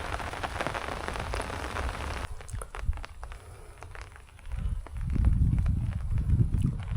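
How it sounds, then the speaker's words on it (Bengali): The first spring rain after winter falls steadily on surfaces outdoors, a continuous hiss of drops that shifts partway through toward heavier, lower splashing. "বসন্তকালে আজ প্রথম দিন বৃষ্টি হচ্ছে।"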